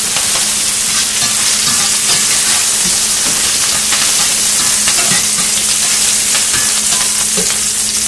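Star anise and Sichuan pepper stir-frying in hot oil with pork fat, a loud continuous sizzle and hiss with occasional spatula scrapes, no voices.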